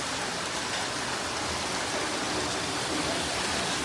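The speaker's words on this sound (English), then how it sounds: "and right now it's raining." Evening rain falling outdoors near Manali in the Himalayan hills, a steady, dense hiss of rainfall with no distinct drops standing out, continuous and even throughout.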